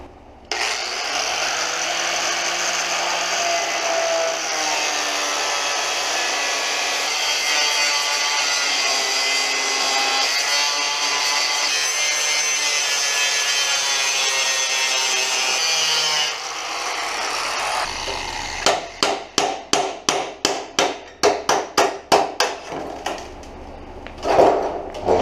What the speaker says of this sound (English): I have a grinding wheel and not a cutting wheel.